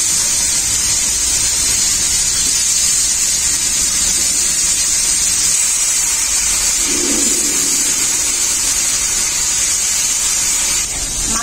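Mushrooms coated with salt and turmeric frying in hot mustard oil in a pan, a loud, continuous hiss and sizzle held steady throughout with faint clatter underneath.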